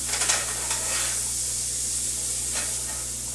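Butter melts in leftover sausage fat in a pot, giving a steady, close sizzling hiss with a few brighter crackles and no voices.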